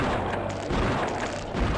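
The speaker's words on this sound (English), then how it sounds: "The explosions in this go far beyond the realms of whatever you expect." Video game explosions with a blood mod, a dense continuous rumble of booming blasts filling the short stretch at steady loudness, with no pauses between hits.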